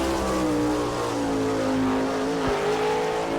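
A sprint car lapping the Attica dirt oval in Ohio during an All Star Circuit of Champions Speedweek race, its engine a loud, sustained roar with a falling and rising pitch as it goes through the turns.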